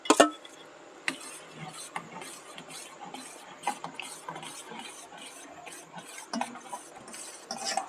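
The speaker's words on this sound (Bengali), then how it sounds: "আমি কিছু সময়ের জন্য এটাকে ভালোভাবে নেড়ে নেড়ে একটু দুধটাকে মেরে নেব" Boiling milk with chhana added, stirred in a pot with repeated soft scraping strokes against the bottom, close and fairly quiet, in an uneven rhythm with no talking.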